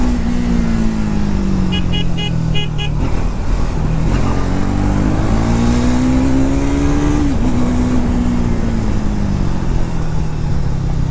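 Triumph Speed 400 motorcycle engine rising in pitch under acceleration, easing off and climbing again, then dropping as the bike brakes, heard loud and steady throughout with a few short beeps early on.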